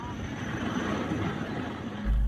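A rescue helicopter hovers with a steady, broad rotor and engine roar, close and loud throughout, with a low thump swelling near the end and a voice faintly mixed in.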